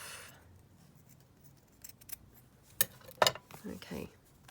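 Scissors cutting off a piece of fabric for tags: a few sharp snips and crisp rustles after a quiet stretch, close and moderately loud, with some brief faint voice.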